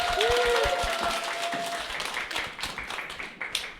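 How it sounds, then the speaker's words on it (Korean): Applause from an audience welcoming a lecturer at a talk, a steady wash of many hands clapping that gradually thins out over a few seconds. "큰 박수로 환영해 주시기 바랍니다."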